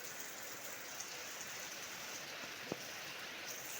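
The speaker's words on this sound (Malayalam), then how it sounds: "നല്ല മഴയാണ്, നല്ല മഴയാണ്." Heavy rain pours outdoors as a dense, even wash of noise, constant and fairly faint, with a single sharp tap standing out near the end and no voices.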